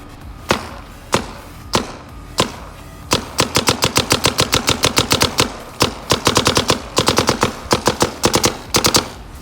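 Planet Eclipse Geo paintball markers (Geo 3.5 and Geo 4) firing, a few spaced single shots followed by loud, fast ripping bursts of rapid fire with short pauses between strings, close by and with no talking.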